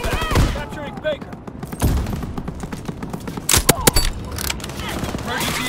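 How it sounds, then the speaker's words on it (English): Rapid bursts of gunfire and thudding blasts from a Call of Duty WW2 match, loud and dense throughout, with several sharp shot clusters and game voice chatter layered over the battle noise. "Taking rapid fire!"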